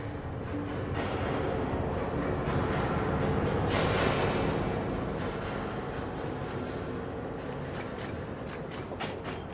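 A train runs steadily along the rails with a continuous rolling rumble and mechanical rattle, swelling briefly midway and then settling into faint rhythmic clicks, as a drama sound effect with no voices.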